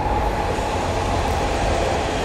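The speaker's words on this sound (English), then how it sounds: "The train goes vroom vroom." Train in Tokyo, Japan, rolling along at speed with a steady, loud rumble and rushing wheel noise heard from on board, continuous throughout with no talking.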